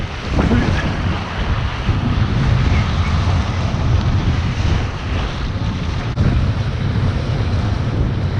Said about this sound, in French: Bonne rafale